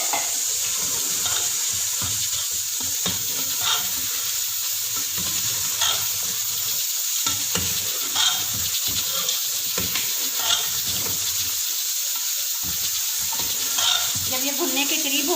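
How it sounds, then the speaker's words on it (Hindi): Mutton being fried again in a pot, a loud, steady sizzle with scattered scraping and stirring knocks over a long stretch, close and continuous. "अब हम इसमें दोबारा वापस जो है ये ऐड कर देंगे गोश्त जो हमने निकाला था भुनाई करके।"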